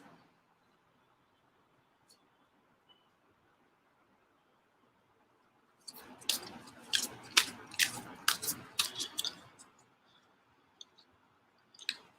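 Tarot cards being pulled from a deck and shuffled, a quick run of crisp papery clicks and snaps, close and fairly quiet, after a near-silent stretch.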